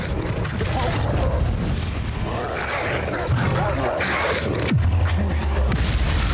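Confringo fire spell blasting in the video game Hogwarts Legacy, a loud, dense explosive boom with a rumbling roar and crackling burst, sustained across the span amid game effects.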